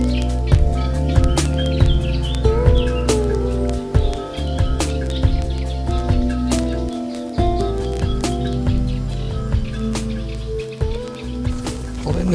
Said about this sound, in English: as you progress along them you hear the wonderful sound of birdsong all around you